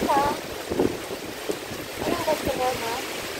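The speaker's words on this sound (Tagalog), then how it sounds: "Napakalakas po ng hangin." Strong typhoon wind roars and buffets the microphone at a resort, a steady rushing noise with talk over it.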